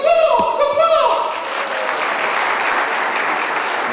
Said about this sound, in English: You're going to give a round of applause.